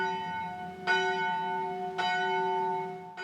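Church bells ring in an English village in East Chiltington, southern England, with three distinct strikes about a second apart over a sustained ringing hum, fairly loud and clear with no talking.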